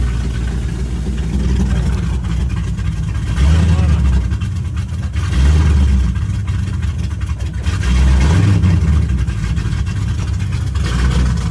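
A rebuilt 2006 Ford Mustang GT V8 runs close by, idling roughly with several throttle blips that swell and fade, a low rumble filling the background throughout.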